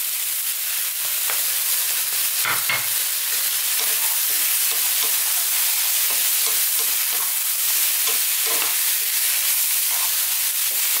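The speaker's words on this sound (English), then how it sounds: "Let's just stir fry this around." Tomatoes stir-fried over high heat in an eggplant and chickpea dry curry sizzle and hiss steadily in the pan, with repeated scraping stirs of a utensil throughout, close and continuous, no voices.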